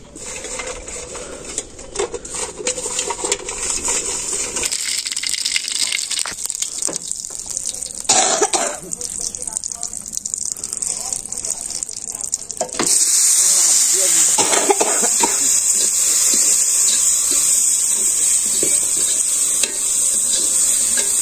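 Oil poured into a hot pan for a fish curry, hissing into a loud, steady sizzle and fry that swells sharply midway and stays strong, with a cough and throat clearing early on.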